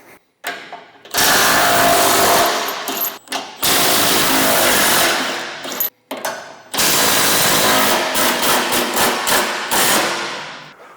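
An impact wrench with a 1-1/8 inch socket loosens bolts on a MUSKOX 26-84 snowblower, firing loud close hammering bursts of several seconds each, with short pauses between them and no talking.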